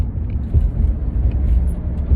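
A Mercedes 560SEC on the road, heard as a steady, low engine and road rumble from inside the car, with gentle surges in loudness and no speech.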